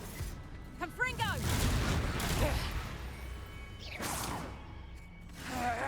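A Confringo fire-blast spell cast in the Hogwarts Legacy video game bursts out as a whooshing, booming magical explosion, followed by rumbling impact and a second blast a few seconds later; a voice calls out in the game.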